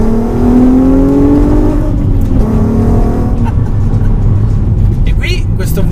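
Volkswagen Golf R32 MK5 with a large naturally aspirated V6 revs loudly up close, its engine note rising and falling steadily for several seconds, with a brief whirring sweep near the end.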